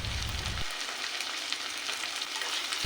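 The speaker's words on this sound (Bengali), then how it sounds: "কাঁচা লঙ্কা আর টমেটোটা মশলার সাথে ভালোভাবে আমি মিক্স করে নেব।" Green chilli and tomato stirred into spices in a frying pan, giving a dense, steady sizzle with faint scraping throughout, close and continuous, with a low rumble dropping away early on.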